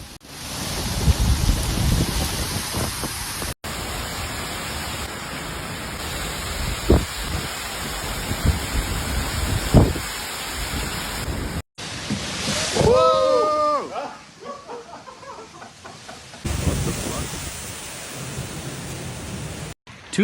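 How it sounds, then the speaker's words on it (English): A violent summer thunderstorm with heavy rain, hail and winds gusting to 97 km/h sweeps across the Netherlands, loud dense rain and wind roar across several cuts, with a rumbling burst midway and faint voices underneath. "heavy rain, hail and winds of up to 97 km per hour swept Netherlands"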